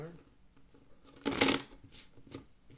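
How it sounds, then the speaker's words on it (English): Playing cards are riffle-shuffled up close at an Ultimate Texas Hold'em poker table, a quick flurry of crisp flutters followed by softer taps as the deck is squared. "I'm going to shuffle."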